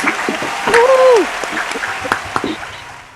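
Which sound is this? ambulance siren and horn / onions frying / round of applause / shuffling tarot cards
round of applause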